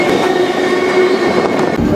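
A freight train rolls slowly toward a junction near Fostoria, heard from on board. The rumble and rail hiss run steadily close by, with a sustained wheel squeal tone over them.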